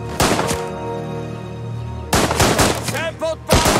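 Gunfire in the video game Last Train Home comes as bursts of sharp, loud shots, with a rapid cluster early on, a lull of low rumble, then several more close cracks toward the end.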